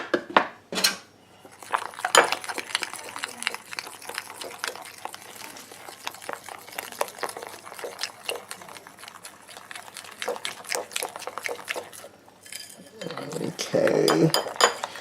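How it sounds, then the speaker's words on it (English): Bread flour is mixed in a bowl for baguette dough with a utensil, making a busy run of clinks, scrapes and taps against the bowl, close and fairly loud, with a brief pause and a louder clatter near the end. "I'm going to tip half a cup of bread flour inside. I'm just going to mix it all up."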